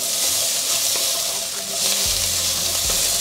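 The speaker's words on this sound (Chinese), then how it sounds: "再翻动。" Taro and carrot stir-fried in a wok, turned after browning: continuous hissing sizzle with spatula stirring, plus a brief watery splash near the end.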